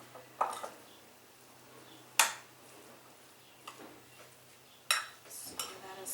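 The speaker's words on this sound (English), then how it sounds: "Just give that a stir." Spoon stirring barbecue chicken and barbecue sauce in a bowl, heard as a few sparse, sharp clinks and scrapes against the bowl over a quiet background.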